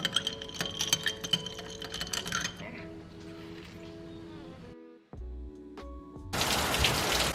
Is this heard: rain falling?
yes